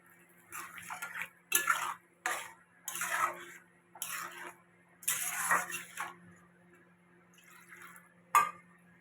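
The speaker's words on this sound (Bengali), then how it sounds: "এবার ঝোলটা দিয়ে দেব" Curry broth is poured into a pot of ghugni in several separate splashing, gurgling bursts, ending with a single sharp clink of utensil on pot.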